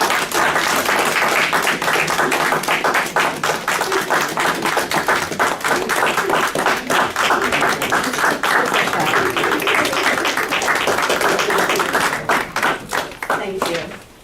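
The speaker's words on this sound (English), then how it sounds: "can we just give them a round of applause?" A room full of people at a city school board meeting applauds, dense clapping sustained for over ten seconds at a strong, even level before thinning and fading out near the end.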